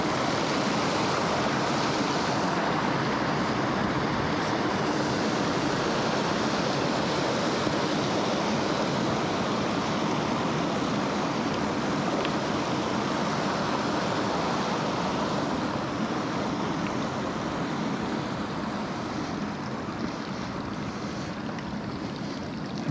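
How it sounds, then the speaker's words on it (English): A mountain creek in Jotunheimen National Park, Norway, rushes in a constant loud, broadband roar of flowing water that stays steady and close throughout, with no voices. "Yet another creek"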